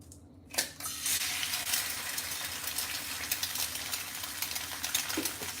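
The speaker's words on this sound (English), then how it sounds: "So, time to crack our egg." An egg cracked into a pan over lower heat, a sharp crack and drop followed by a steady, faint sizzle of frying that continues alone.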